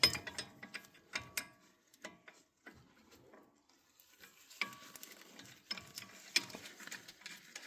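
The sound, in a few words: removing bottom caliper bolt on Lexus ES 350 brakes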